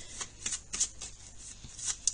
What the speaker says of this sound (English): I'm just going to shuffle them in my hands here.